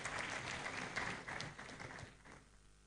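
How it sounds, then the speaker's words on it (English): Faint applause at a legal colloquium on draft housing bills, a short burst of audience clapping that fades out toward the end, distant and quiet. "Shall we clap for him as well?"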